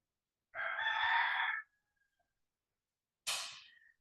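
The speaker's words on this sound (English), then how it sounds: "as we get divine recognition from our roosters outside." Roosters crowing outdoors: one long, loud cock-a-doodle-doo near the start, then a shorter crow after a pause of silence, with no talking.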